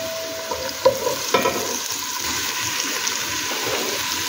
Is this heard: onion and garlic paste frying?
yes